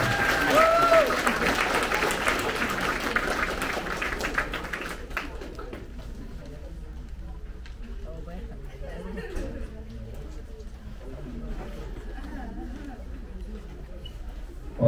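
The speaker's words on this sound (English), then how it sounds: "And big round of applause for our president, Annika Nguyen." An audience claps loudly at a 6th grade promotion ceremony at Woodbury Elementary School, a dense burst of applause that fades after a few seconds into quieter murmuring and a voice speaking.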